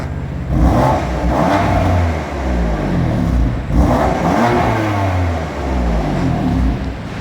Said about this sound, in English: get you a nice little exhaust note while it's sitting and idling.